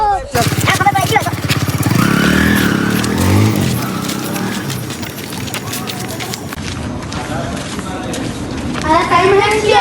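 A motorcycle engine runs steadily and loudly close by throughout, with people talking and shouting over it.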